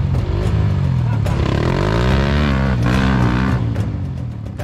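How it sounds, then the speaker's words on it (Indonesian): Dirt motorcycle held on the throttle as its rear tire spins and digs into loose soil, a loud continuous engine roar with rising and falling pitch, close by, with voices talking over it. "Jadi di gas dibuka, ban spinning, sesenti gembur makin dalam"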